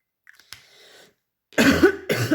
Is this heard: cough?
yes